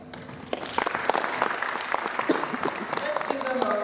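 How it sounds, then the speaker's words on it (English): An induction event audience applauds with dense, steady clapping that swells and holds throughout, with a voice calling out faintly over it. "Let's give them a round of applause"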